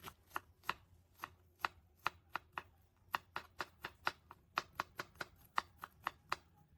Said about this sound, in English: Next, cut the onion in half, then cut it into pieces of a suitable size